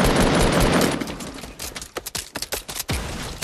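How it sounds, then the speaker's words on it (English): Fortnite gunfire rings out after a noisy rushing wash: a quick string of sharp, close cracks and bursts in rapid, uneven succession, then a steadier noise returns. "they're shooting at me"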